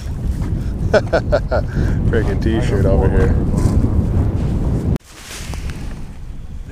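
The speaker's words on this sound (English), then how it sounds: "This day couldn't get any more cold and windy" Strong wind buffets the microphone in a continuous roar while someone speaks over it; the gusting rumble carries on alone after he stops.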